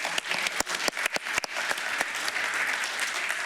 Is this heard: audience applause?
yes